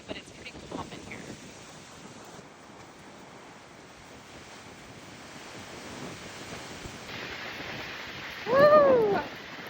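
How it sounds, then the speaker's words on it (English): Wind and choppy water in a marina in the Florida Keys, a steady rushing wash of wind and waves that slowly builds, with a loud gust of wind on the microphone near the end. "It's pretty calm in the marina. I mean, it's windy, but it's pretty calm in here."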